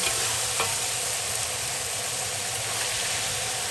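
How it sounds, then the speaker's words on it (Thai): Pork fat rendering for crackling over low heat, a steady soft frying sizzle that hums on without pause, with an occasional scrape of stirring and a low background rumble. "เราจะใช้ไฟอ่อนในการเจียวนะคะ จะได้ไม่แตกกระเด็นนะคะ"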